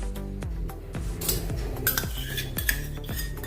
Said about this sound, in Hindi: अभी हम बटर का इस्तेमाल कर रहे हैं, तो इसमें अभी हम बटर डाल देंगे।